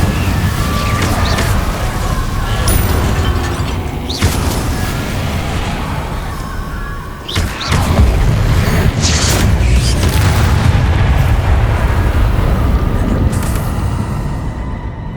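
The Incendio fire spell cast in the Hogwarts Legacy video game: a dense, roaring, booming blast of fire that holds loud and continuous, with a brief dip in the middle.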